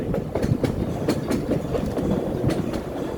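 A tourist train at St. Nicholas Abbey runs along its track with a steady clickety-clack of wheels over rail joints and sharp periodic clacks, loud and close, with no talk.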